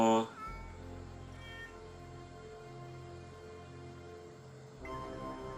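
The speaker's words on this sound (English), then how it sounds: "All I have is Lucy, my cat." A cartoon cat meows in an animated TMNT 2003 episode, a short meow near the start and another near the end, heard over background music with voices around it.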